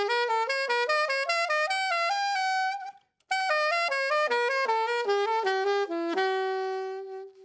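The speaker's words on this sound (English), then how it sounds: "playing the scale in thirds" A musical scale played in thirds on a sustained, reedy melodic instrument, notes stepping up and down in a zigzag stair-step pattern, a brief pause midway, ending on a held note; loud and close, no talking.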